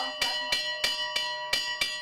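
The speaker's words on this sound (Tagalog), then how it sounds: "The ringing of the church bell marks the first alert level" Church bell struck as a flood alert for first warning level, six evenly spaced metallic strikes with ringing overtones decaying between each, fairly close and alone.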